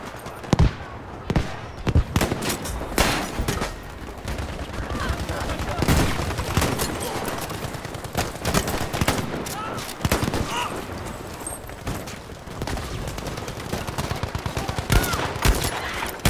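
Gunfire in the video game Battlefield 5, including the ZH semi-automatic rifle: repeated sharp, loud shots in irregular bursts with game action and effects between them.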